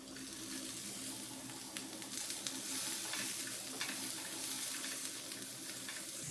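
Shredded cabbage added to a hot pan for an egg stir fry, a steady loud sizzle and hiss that fills the clip without talk.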